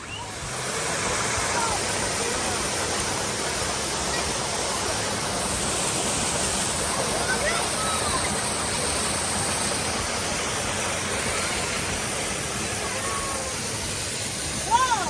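A waterfall roars as a dense, steady broadband rush, close and loud, with no speech heard.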